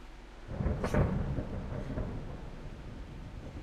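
Thunder rumbles through a rainy storm in the medieval game Kingdom Come: Deliverance, with one deep crack near the start, then a steady low roll under soft rain.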